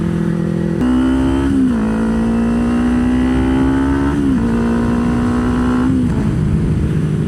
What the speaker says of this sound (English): Nice little 2-hour ride on the bike.